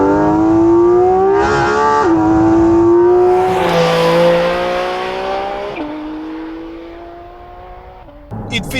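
The engine of a Porsche 718 Cayman GT4 RS, sharing the 992 GT3 motor and revving to 9,000 RPM, howls loudly and close up through rising and falling revs, with a brief gear change in between and a short burst at the end.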